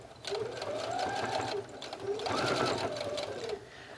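Sewing machine edge stitching fabric with red thread while making a travel bag, running in two steady bursts of mechanical whirring with a short pause between them, fairly close and alone without talk.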